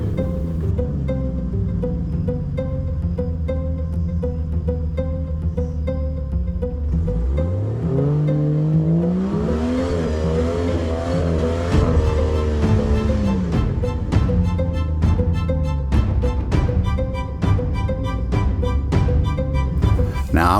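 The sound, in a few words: Jeep with Patagonia tires revving on slick clay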